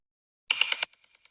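Simulated Wi-Fi router radio-frequency radiation heard as a short burst of harsh, high electronic pulsing lasting about a third of a second, then a few faint ticking echoes, with no voices.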